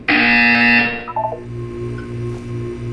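A loud electronic buzzer in Portal 2 blares for about a second, then fades into a low pulsing hum with faint tones.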